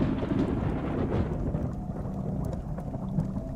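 Thunder rolls over steady rain as an effect for a cold, dark, rainy day in medieval Scotland, where three witches wait: a dense, continuous low rumble with hiss on top, fairly loud and constant, with no speech.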